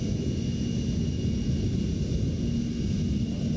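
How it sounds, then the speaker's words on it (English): Steady, loud broadband jet engine roar from a CRJ 900 airliner in a flight simulator, a continuous low rumble with a faint high whine layered above, constant and close throughout with no talking. "these new engine sounds are also on this airplane"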